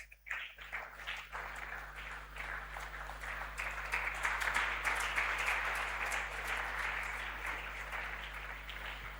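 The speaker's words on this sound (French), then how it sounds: "Put your hands together for the Lord." A church congregation applauds during a spiritual emphasis week service, dense clapping from many hands that swells and holds steady over a low constant hum.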